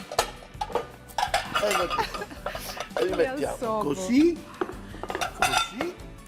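Plates and dishes clatter and clink as they are gathered in a home kitchen while soups are being made, with repeated sharp knocks of crockery and cutlery under ongoing conversation.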